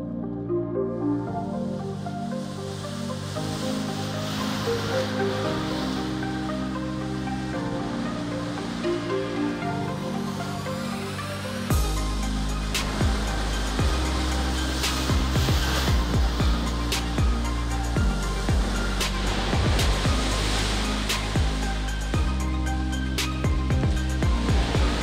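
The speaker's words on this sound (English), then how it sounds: "This system can simulate the variation between large and small waves" Artificial sea waves churning in a 1,000-foot wave flume channel driven by a piston-type vertical waveboard, a continuous broad roar of rushing water that turns heavier and more turbulent midway, with sharp splashes and surges.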